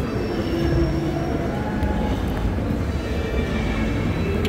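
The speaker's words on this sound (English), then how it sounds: "There's another MR73 going in the Snowden direction." A Montreal Metro MR73 train passes, giving a loud, steady rumble and roar of rail noise that fills the whole stretch without letting up.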